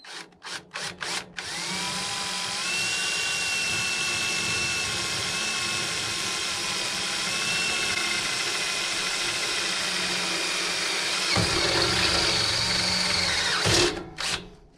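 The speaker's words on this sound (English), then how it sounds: "now I'm just gonna put the holes into the actual sawmill housing in order to accept the bracket and the block" A power drill bores holes into the metal housing of a sawmill, starting with a few short bursts and then running in one long, steady, loud whine that rises in pitch near the end before stopping.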